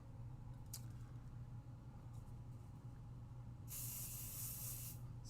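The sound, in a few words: spray bottle spraying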